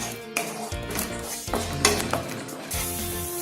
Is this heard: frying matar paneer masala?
yes